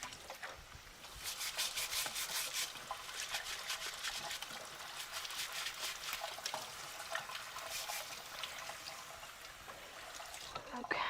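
Water runs from a tap over something being rinsed in a kitchen, a steady hissing splash with scrubbing bursts that lasts throughout at moderate loudness.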